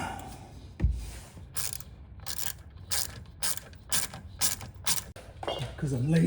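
A Ryobi cordless power tool driving bolts out of a 2025 Range Rover Sport in a series of short, sharp bursts at steady intervals, close by, with brief mechanical clicks between them.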